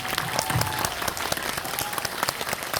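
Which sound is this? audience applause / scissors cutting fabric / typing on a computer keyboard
audience applause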